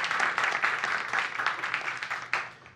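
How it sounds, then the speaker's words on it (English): Audience applause filling a panel event hall, a steady dense wash of many hands clapping that runs throughout, with one sharper burst near the end before it starts to thin out. "Please give her a round of applause."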